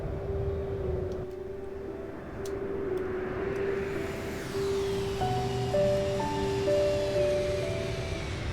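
A Boeing 737-800 cruising at high altitude in X-Plane 11 gives a steady, even cabin drone with sustained tonal engine whine and a few shifting higher tones, continuous with no talking.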